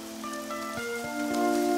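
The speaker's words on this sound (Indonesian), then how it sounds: "Karena hujan gunung tidak akan berlangsung lama" Mountain rain in a cartoon scene: a steady, close patter of falling drops with sustained musical tones over it and no voices.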